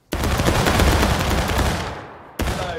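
A loud rifle volley from a group of soldiers in a Civil War-style game bursts out as one massed crash that rolls and decays, followed by a second sharp report shortly after.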